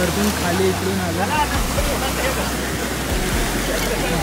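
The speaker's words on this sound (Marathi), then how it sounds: "आम्ही आलो आता परत वॉटरफॉलच्या इथे." A waterfall on a plateau trek near Bhivpuri roars as a dense, steady rush of falling water, with a voice speaking briefly over it near the start.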